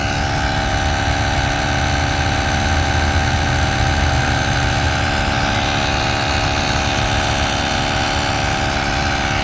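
An Auxito jump starter's built-in tire inflator pumps a car tire toward 36 psi, a steady loud mechanical buzz and whir that drones on without pause and with no talk.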